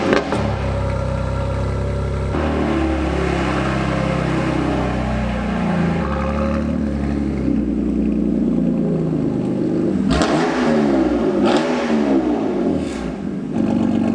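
A modified BMW M2 Competition engine revs with a raspy note, a steady mid-pitched drone near the microphone that swells into several sharp rising and falling revs toward the end.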